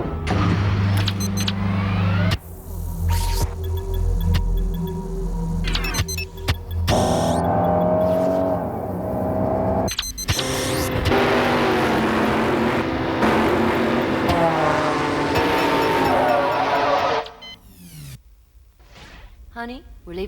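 A Honda Accord drives in a television commercial, its engine and whooshing passes mixed with music, abrupt cuts and a talking voice throughout, before a brief quieter stretch at the end.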